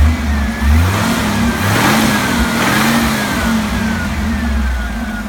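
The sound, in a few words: Jeep CJ7 engine idling with Offenhauser intake and Flowmaster exhaust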